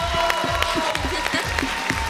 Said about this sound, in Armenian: մի հատ բարձր ծափահարենք Գրիշ Աղախանյանի, շատ բարձր։